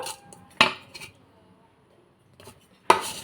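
A spoon clinks against a metal pot while jaggery is stirred into cooked chana dal, a few sharp scraping knocks separated by quiet pauses.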